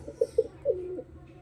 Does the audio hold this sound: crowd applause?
no